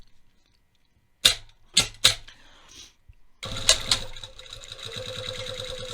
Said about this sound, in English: And I'm just going to do an edge stitch right along the edge,